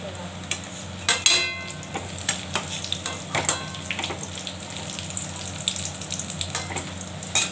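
Bhetki fish roe fritters fry in hot oil with a steady sizzle, broken by scraping and clinking of a spatula against the pan as the fritters are stirred and lifted out.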